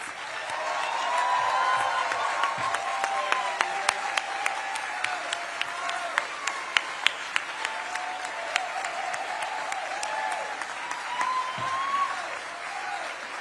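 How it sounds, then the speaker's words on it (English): Sustained crowd applause fills a political convention hall where Maine Democrats are selecting a Senate candidate, dense steady clapping with scattered sharper claps and faint cheering, holding strong for over ten seconds before easing slightly. "Let's give them all a huge round of applause."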